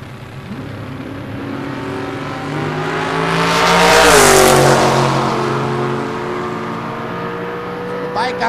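Chevy pickup with a 427 small block at a drag race launching and roaring past, engine swelling to a loud peak and fading as it pulls away, with an announcer talking over it.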